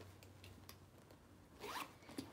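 A zipper on the pocket of a leather Max New York bag, pulled in quick, faint scratchy strokes with a louder rasping pull near the end, close and alone without talk.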